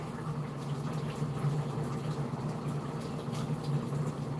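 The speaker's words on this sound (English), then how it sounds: "Pour your butter beans in that pot." Butter beans pouring into a pot of cooking oxtail, a steady wet, sloshing pour that runs continuously for several seconds at moderate distance, no talk.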